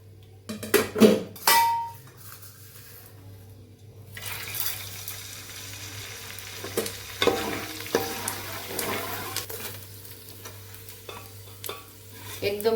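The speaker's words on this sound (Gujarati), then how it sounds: "આપણે બધા ગુંદને તળીને કાઢી લેવાનો બહાર સરસ ગુંદ ફૂટી જાય એવી રીતે તળવાનો" Edible gum (gond) frying in hot ghee in a pan for winter adadiya sweets, a soft bubbling sizzle with intermittent stirring scrapes and clinks of utensils, quiet stretches between louder bursts.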